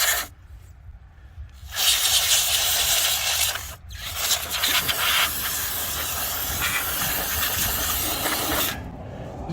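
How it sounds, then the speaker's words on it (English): Quick-drying contact cleaner sprayed from an aerosol can onto gears, several loud, sustained hissing bursts, close up, separated by brief pauses. "specialist contact cleaner, quick drying"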